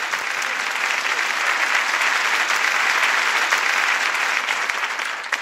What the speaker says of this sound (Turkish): Alkışların en büyüğünü Ersay Üner için rica ediyoruz